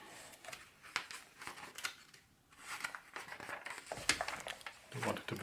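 A Fox Shadow knife slices through magazine paper in a series of crisp, close, rasping cuts and rustles, several strokes spread irregularly with brief pauses between them.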